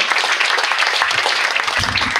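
An audience applauds a man named Stéphane, a dense, loud, continuous burst of many hands clapping together, briefly filling the room.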